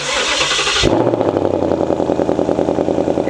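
A Ford Mustang V8 fires up with a sudden burst, then its exhaust settles into a loud, deep, rumbling idle with a steady throbbing pulse close by.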